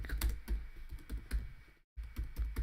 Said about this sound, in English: I'm sorry I'm typing it all out